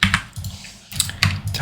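Keys clatter on a computer keyboard as Ctrl+G is pressed to group items while designing a blog thumbnail in Figma, a few quick clicks in two short bursts separated by a brief pause.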